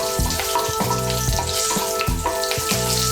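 Nigella seeds and green chili fry in hot oil for a Bengali flat bean and prawn dish, a steady close sizzle broken by regular scraping stirs of a spatula against the pan.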